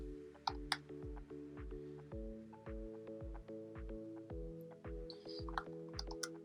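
Keys on a computer keyboard are tapped in a quiet, steady run of close clicks over a low sustained background tone, with no talk.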